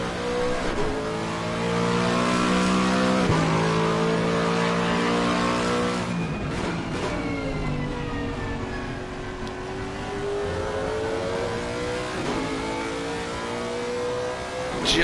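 A Lamborghini race car in a 12-hour endurance race at Mount Panorama, its engine loud and close, climbing through repeated gear changes with rising revs and brief lifts between shifts.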